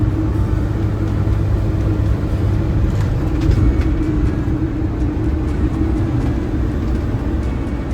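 An RV drives along a curvy mountain highway on the Icefields Parkway in the Canadian Rockies, giving a steady, loud low road rumble and engine drone that continues throughout with no speech.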